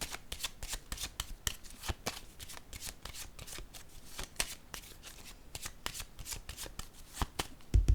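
Tarot or oracle cards being shuffled by hand in a steady run of crisp riffling bursts, close and fairly quiet, with no talk over them.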